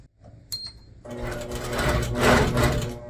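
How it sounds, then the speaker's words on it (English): A longarm quilting machine stitches down quilt binding, starting with a few faint clicks before settling into a steady, loud, continuous rapid stitching hum that runs to the end. "back on top of the binding and start stitching"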